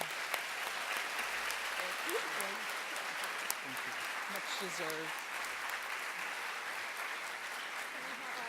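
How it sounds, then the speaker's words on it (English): Applause rings out at a college convocation for Excellence Award winners, a continuous crowd clapping texture at moderate level while someone speaks briefly over it. "let's have applause for our 3 Excellence Award winners"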